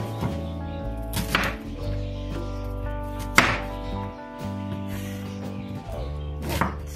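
Red onions being chopped with a knife on a board, a few sharp thuds at uneven intervals over steady background music.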